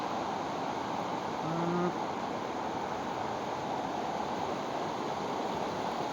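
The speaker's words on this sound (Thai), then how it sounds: "น้ำตกโอบังโกครับน้ำตกโอบังโก" The Obangko waterfall pours with a loud, steady rushing roar that stays constant and unbroken throughout, with no talk over it.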